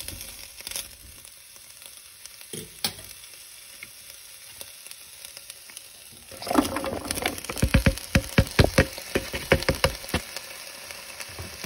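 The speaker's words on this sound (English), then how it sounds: "just saute them a little bit with the meat." Carrots and onions sautéing with browned meat for goulash, a quiet pan that erupts into loud crackling sizzle with repeated stirring and scraping clatter in the second half.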